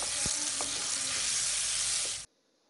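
Blended carrot hits a pan of hot oil with a loud, steady sizzle, a few stirring clinks audible before it cuts off abruptly near the end.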